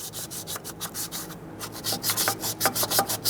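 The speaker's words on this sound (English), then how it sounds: "So using this block and some sandpaper will guarantee a nice smooth surface." Steady back-and-forth rasping of a sandpaper block on an aluminum surface, rhythmic strokes close up, with no voices.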